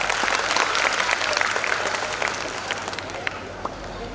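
Steady audience applause fills a hall at an abacus academy's national-level competition award function, a dense wash of many hands clapping throughout with faint voices mixed in.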